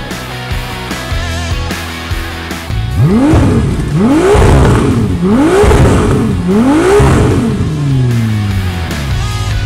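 A Ferrari 296 GTS 2.9-litre engine revs hard through repeated rising and falling sweeps, loud and close, after a lower idling rumble at the start.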